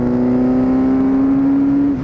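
Orange Suzuki B-King motorcycle accelerating, its engine a loud, close, steadily rising drone held for two seconds with no talk.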